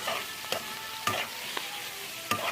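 Thin pork slices frying in hot oil in a pan, a quiet sizzle broken by a few sharp clacks of stirring at roughly half-second intervals.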